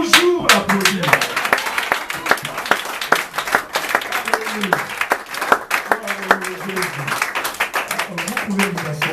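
A church congregation applauding during a service: sharp individual claps ring out steadily throughout, mixed with voices talking and calling out over the clapping.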